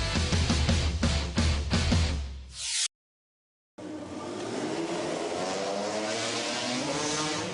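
Freestyle motocross bike at a competition landing a backflip, the engine revving loudly then cutting out briefly before roaring back with a sustained, crowd-washed high-pitched whine.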